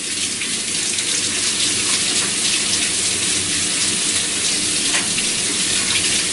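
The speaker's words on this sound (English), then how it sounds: "I'll give my hands a quick wash" Tap water runs steadily and loudly at a kitchen sink as butter-greased hands are rinsed, a continuous broad rush with no pauses or talking.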